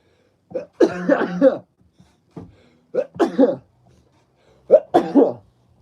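Three short explosive bursts like sneezes or coughs from one person close to the microphone, spaced about two seconds apart, with quiet gaps between.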